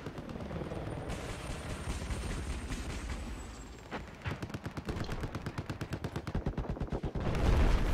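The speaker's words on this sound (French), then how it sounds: "avec cet anti-aérien qui va essayer de faire tomber l'hélico adverse" Anti-aircraft gun in Battlefield 4 firing at an enemy helicopter: sustained rapid automatic bursts over a dense battle din, the shots turning into a sharp, evenly spaced rattle that grows louder toward the end.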